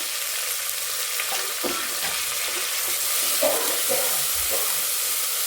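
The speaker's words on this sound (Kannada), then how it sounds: "ಸ್ವಲ್ಪ ಗೋಲ್ಡನ್ ಬ್ರೌನ್ ಆಗೋವರೆಗೂ ಬಾಡಿಸ್ಕೊಳ್ಳೋಣ." Chopped garlic and onion sautéing in a pan, a loud continuous sizzle and hiss with a few faint stirring knocks underneath.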